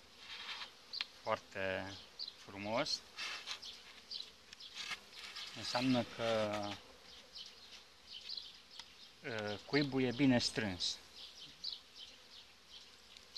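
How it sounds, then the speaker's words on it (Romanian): Honey bees from a gentle colony buzz steadily around an opened beehive during a brood check, a soft insect drone running beneath someone talking up close. "Iată cum stă albinuța aici pe polistiren."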